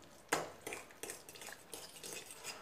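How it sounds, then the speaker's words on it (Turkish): A spoon clinks and scrapes against a bowl while yogurt and cheese are stirred together, giving a series of quiet, irregular taps and scrapes. "Yoğurt ve peyniri güzelce karıştırdım."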